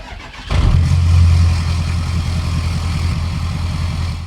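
Pickup truck engine in Farming Simulator 15, a Ford F-450 or Dodge 2500, cranking and catching after a brief quiet moment, then settling into a loud, steady low idle drone.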